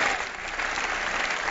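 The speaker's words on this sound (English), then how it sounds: "Please, another round of applause for our candidates tonight" Dense, steady applause from a large crowd at a U.S. Senate debate, sustained throughout the short stretch without a break.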